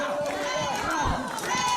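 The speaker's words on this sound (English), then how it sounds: "Crowd cheering on the Rainbow Ranger" Wrestling crowd cheering for the Rainbow Ranger at a live wrestling show, a steady roar of voices with shouts rising and falling throughout, loud and continuous under a commentator's talk.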